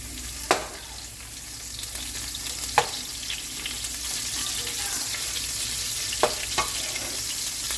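Salted fish frying in a pan for vegetable jollof rice, a steady close sizzle broken by a few sharp utensil taps.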